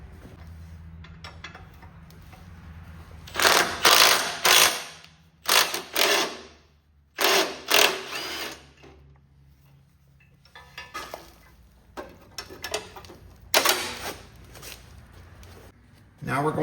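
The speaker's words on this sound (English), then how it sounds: "So we'll take this side bolt off here." A ratchet works a side bolt loose on a Cub Cadet 107 narrow frame tractor, heard as several close, sharp metallic clicking bursts with quiet gaps between them.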